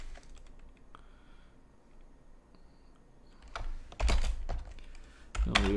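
Keys clacking on a computer keyboard while C++ code is typed, with quiet scattered keystrokes early and louder, denser bursts of typing toward the end, close and with no talking.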